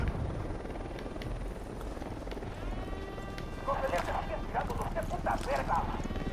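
Helicopter in Ghost Recon Wildlands: a loud, continuous rotor thrum that fills the whole stretch close by, with voices talking over it and brief bursts of other game noise near the end.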